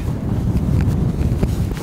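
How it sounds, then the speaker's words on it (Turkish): Wind blowing hard across a cold winter campsite at minus five degrees in a windstorm, a loud rumbling gust buffeting the microphone throughout, with no voices. "Rüzgar alıyorsun orada."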